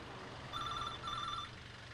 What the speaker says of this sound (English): A few minutes later, the phone started ringing.